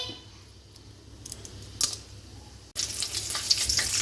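Whole cloves, cardamom and cinnamon frying in hot oil for chicken gravy, a soft sizzle with a few clinks before a sudden louder burst of sizzling near the end.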